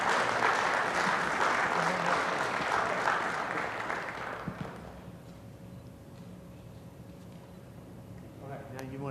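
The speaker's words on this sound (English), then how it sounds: "Let's give him a big round of applause." Audience applause at a city council meeting, a broad crowd clapping that stays full for about four seconds and then fades into a quiet room with soft murmurs and a faint voice at the end.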